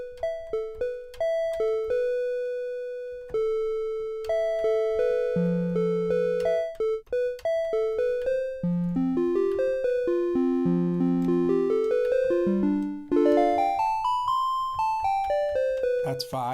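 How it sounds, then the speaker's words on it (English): A snappy synthesizer lead on the BLEASS Megalit, built on a sine wave with an ADSR envelope, plays clean, short plucked notes in a melodic line that climbs higher toward the end. "we've got a nice little kind of snappy little lead sound type thing"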